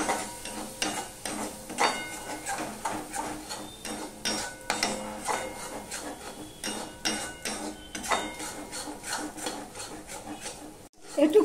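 Ground cumin and turmeric are sautéed in a pan for a garlic-free, onion-free pointed gourd korma, with a spoon scraping and stirring in steady repeated strokes over a soft sizzle, close and fairly quiet.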